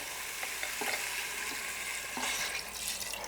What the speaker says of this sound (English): Yeah, I think we go ahead and add our broth.